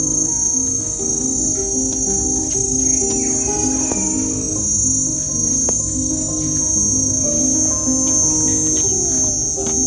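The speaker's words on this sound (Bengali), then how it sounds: "আর ঝিঝি পোকার ডাক দিনের বেলাও প্রকৃতিকে মাতিয়ে রেখেছিল," Crickets chirp in a mangrove forest on Langkawi, a dense, continuous, shrill drone of overlapping trills. Faint bird calls sit occasionally in the background.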